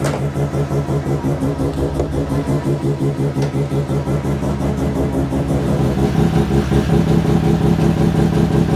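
A loud Mazda RX-7 with a bridgeport rotary engine idles roughly just after its first start, a close, choppy, pulsing exhaust drone that grows louder and heavier in its final seconds.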